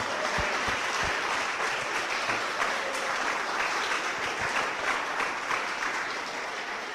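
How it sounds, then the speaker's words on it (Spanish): Congregation at a church service applauding steadily throughout, a dense, sustained wash of clapping with a few low thumps underneath. "Dale una ofrenda de aplausos al Señor."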